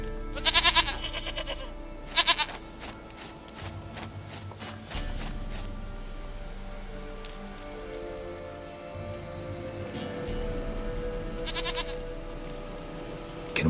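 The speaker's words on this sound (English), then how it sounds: "Goat of mine, dearest, sweetest goat." Goats in The Witcher 3 bleat in short, loud, wavering cries, a couple of close calls at the start and another later, over a steady low ambient bed.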